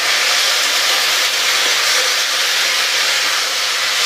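Potato and plantain pieces fry in hot oil in a pan after browned onions, a dense, steady hiss filling the whole span at close range, with no talk.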